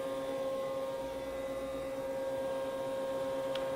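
A 2013 Haas EC400 machining center with its spindle running at 8,000 RPM, giving a steady, even high-pitched whine and hum close by, with no pauses and no voices.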